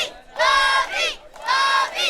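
A wrestling crowd at an Xtreme Warfare (XWW) event taping roars in two loud surging waves of cheering and shouting, with a brief dip between them.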